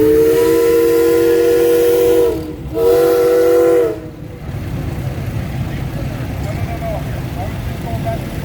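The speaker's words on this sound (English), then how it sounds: "them boys love to play with those steam whistles" A loud, sustained steam whistle blows twice at an antique tractor and engine show, the second after a short gap, then gives way to a rumbling background with faint voices.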